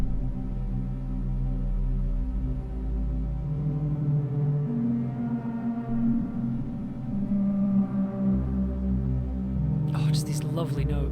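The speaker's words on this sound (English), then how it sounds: "Love the little bits of harmony you get with the drone." A synthesizer drone on a homemade noise instrument, steady sustained low tones layered with shifting harmonic overtones that form soft chords, continuous and fairly loud, with a brief noisy burst near the end.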